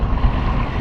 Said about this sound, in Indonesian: Angin barat ya. Anginnya kencang sekali teman-teman.